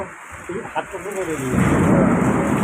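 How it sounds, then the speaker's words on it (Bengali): A deep rumble of thunder builds and rolls on over heavy rain, with a voice speaking briefly before it. "আরে মেঘ ডাকছে কি"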